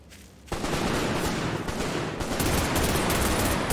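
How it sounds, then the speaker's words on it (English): Video game gunfire erupts into a dense, continuous volley of rapid shots that starts abruptly and stays loud and sustained. "Go ahead, keep firing on me."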